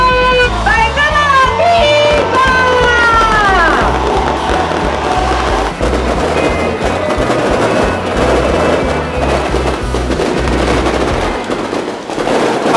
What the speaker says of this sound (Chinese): 很大的烟火，超美，真的是放有够久的